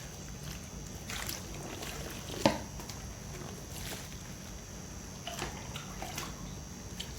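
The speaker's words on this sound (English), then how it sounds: "So let's rinse this out." Water runs and splashes quietly while a bleached-knot hair wig is rinsed under a tap, a soft continuous wash broken by a few faint sloshes and one sharper knock, with no speech.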